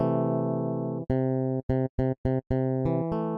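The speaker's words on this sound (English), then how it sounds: "It still sounds like a bass being played at a higher register" A synthesized electric guitar patch built in Logic Pro's Sculpture modeling synth plays one sustained note, then a run of short, evenly spaced plucked notes with clean gaps, in a bright, harmonic-rich tone with no other sounds.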